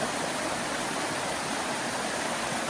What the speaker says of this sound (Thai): มีน้ำไหลผ่านใต้ห้างแบบนี้ใช่ปะ